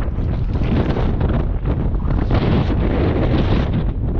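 Strong wind roars steadily across the microphone, a loud continuous rumbling buffet with no pauses.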